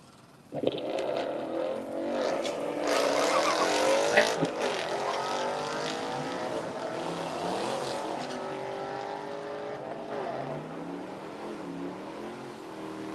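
Race cars, a Ranger and a Mustang, roar along a drag strip: a sudden loud launch builds into sustained engine roar with shifting pitch sweeps, then gradually fades as the cars pull away down the track.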